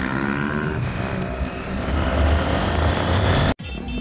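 A KTM Duke 390 motorcycle engine roars loudly and close during a wheelie stunt, its pitch climbing and straining before cutting off abruptly and briefly resuming.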